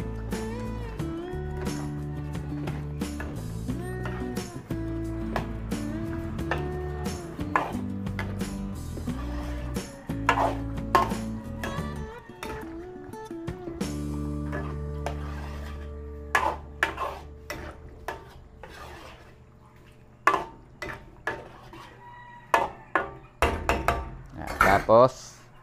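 Vegetables and green olives are stirred in a pot with scraping and knocking sounds under a steady backing of music, which fades out toward the end and leaves sharper isolated clinks and scrapes.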